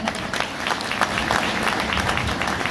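Audience applause at a business seminar, brisk steady clapping from a crowd at moderate loudness.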